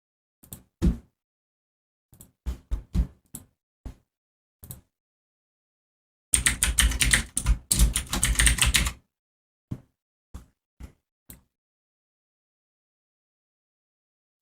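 Typing on a computer keyboard: scattered single key taps and short clusters, then a fast, dense burst of keystrokes for a few seconds, followed by a few more isolated presses in a quiet room.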